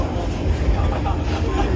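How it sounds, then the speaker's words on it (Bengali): London Underground tube train running: steady loud low rumble and rushing noise of the carriage in motion, continuous with no pauses. "টিউবে বসে পড়েছি, মানে এটা লন্ডনের মেট্রো।"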